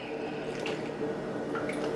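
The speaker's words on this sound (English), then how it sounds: "just open it up in the middle right there and pour my milk into the middle." Milk poured into the center of a flour and butter mixture for Jamaican fried dumpling dough, a soft, steady liquid trickle and splash lasting throughout, close up with no talking.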